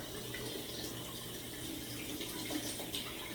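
Cold tap water runs steadily into a sink while an alum block is rinsed during a wet shave, a soft, even hiss at low volume with no talking.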